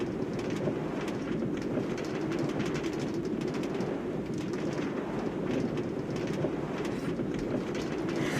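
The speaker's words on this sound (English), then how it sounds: "This is the Westward Trolley. So as we go around the Westward Trolley" The Westward Trolley, a theme park ride, rolls along its rails with a steady rumble and repeated clickety-clack of wheels over track joints, moderately close, with birds faintly calling in the background.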